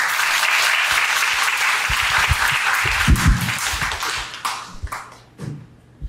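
An audience at a forum breaks into sustained applause, a dense bright wash of clapping that thins into scattered claps and fades near the end, with a few knocks and faint voices underneath.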